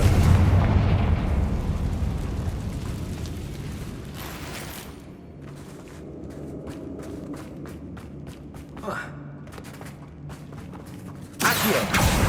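The Confringo fire spell explodes in Hogwarts Legacy, with a heavy blast at the start fading into rumbling game ambience and another sharp burst near the end.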